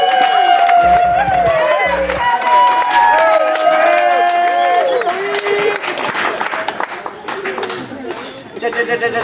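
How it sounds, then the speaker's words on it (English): Wedding guests applaud and cheer for a bridesmaid, a steady wash of clapping from a crowd running under a loud amplified voice and music. "another round of applause for the one and only the other bridesmaid"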